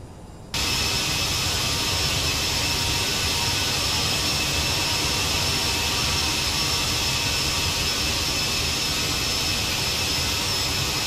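Steady, loud roar of CRJ-700 jet engines spooling up in a flight simulator on final approach with gear down and full flaps, rising after a brief quieter start and holding constant throughout.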